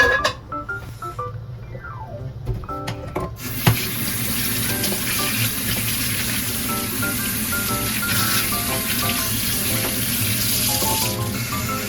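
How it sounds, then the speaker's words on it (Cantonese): Blanched pork spine bones rinsed under a running kitchen tap, a steady gush of water into the sink with small clinks and knocks, close and fairly loud, with no speech. "豬脊骨飛水之後呢，就用清水去沖翻乾淨佢，然後備用。"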